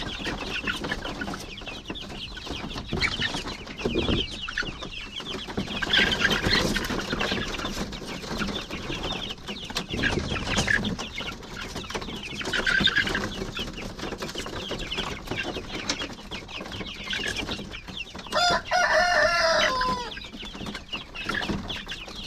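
Dekalb White hens cluck steadily while pecking at azolla, a busy overlapping flock chorus close by that carries on throughout with occasional sharper calls.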